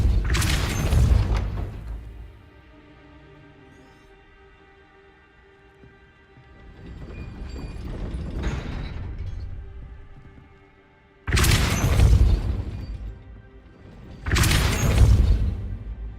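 Spells are cast in Hogwarts Legacy, among them the Depulso force spell: loud, deep booming blasts with whooshing tails. Several bursts are heard, each several seconds apart, over a quiet musical backdrop.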